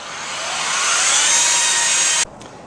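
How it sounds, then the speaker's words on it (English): Polishing machine with a white pad running over travertine stone, a steady rising whir that holds loud and even, then drops sharply near the end to a quieter hum. "we need to use a special white polishing pad to remove the excess residue off the stone"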